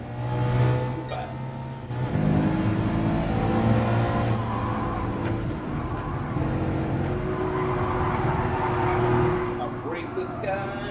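A race car engine revs and drones in the GT Sport racing video game, a sustained rising and falling motor tone with shifting pitch, with a voice talking over it.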